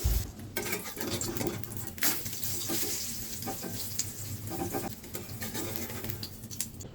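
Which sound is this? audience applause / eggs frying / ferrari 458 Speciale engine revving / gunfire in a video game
eggs frying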